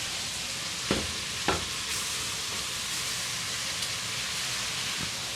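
Tomatoes cooking in a pan for vegetarian chili, a steady close hiss and sizzle broken by a couple of sharp utensil knocks, with no talking.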